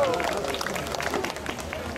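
A horse galloping in a jousting ring-tilt event at a historical reenactment: rapid hoof thuds against outdoor crowd noise, with a commentator talking loudly over the top.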